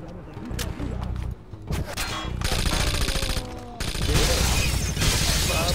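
Gunfire in the Tom Clancy's Rainbow Six Vegas video game, with bursts of shots and metallic clangs from a firefight, loud and dense, backed by game music and ambient battle noise.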